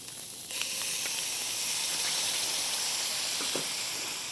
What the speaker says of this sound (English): you want to add your bechamel sauce to it